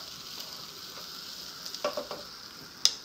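Chopped onion with marjoram and a pinch of salt frying in a pan, a steady close sizzle with a few soft stirring scrapes and a sharp clack near the end, no voices.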